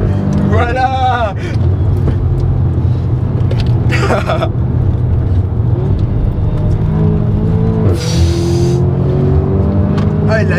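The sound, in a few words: Audi S3 8V with Milltek exhaust driving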